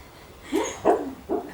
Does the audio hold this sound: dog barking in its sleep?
yes